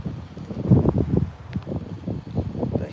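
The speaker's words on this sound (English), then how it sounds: "Today is windy, but not as bad as it was yesterday." Wind gusting outdoors on a chilly day with a view over the strip, buffeting the microphone in uneven low rumbling bursts throughout.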